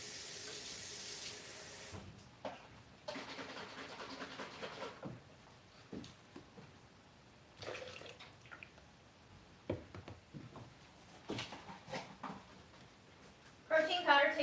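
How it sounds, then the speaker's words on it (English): Tap water runs into a plastic milk container as it is rinsed out, starting with a loud rush at the sink, then dropping to softer splashing and sloshing before a final burst of pouring. Someone talks briefly over the water. "And I'll rinse out the milk container."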